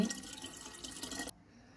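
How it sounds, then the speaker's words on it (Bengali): Water poured a little at a time into a home aquarium: a short, fairly quiet splashing trickle that stops abruptly. "অল্প অল্প করে পানি দিয়ে দিচ্ছি"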